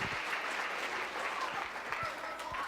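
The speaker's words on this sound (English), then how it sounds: "Can I get a round of applause for them?" An audience at a university chemistry demonstration night claps steadily, a dense patter of applause that stays at an even level throughout.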